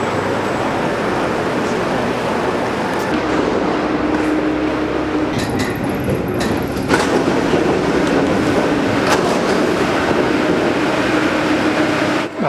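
Paris metro train at a station entrance, a loud continuous rumble of rolling carriages with clicking wheels and a brief high metallic squeal partway through, with faint voices in the background.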